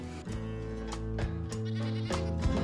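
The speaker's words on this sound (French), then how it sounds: "Ils ont des chèvres." Payoya goats on a farm with its own cheese dairy bleat loudly and repeatedly, several long wavering calls overlapping close by.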